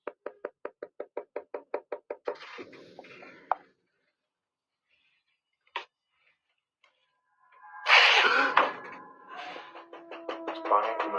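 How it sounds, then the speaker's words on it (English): About a dozen evenly spaced knocks bang through a wall in a quick, steady run, followed by silence and then a nervous voice calling out. "It's banging coming through the wall."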